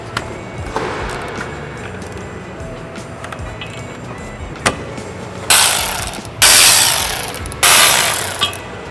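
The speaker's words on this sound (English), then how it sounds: "now we're going to remove the three bolts holding the prop shaft to the rear diff" Ratchet wrench working on the three bolts holding a prop shaft to the rear differential during a Haldex spring install, a faint mechanical clicking under workshop noise, then three loud bursts of broadband ratcheting near the end.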